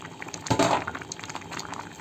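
Egyptian koshari rice bubbling in a pot of water on the stove, a burst of loud boiling and popping followed by a softer steady simmer and small bubbles.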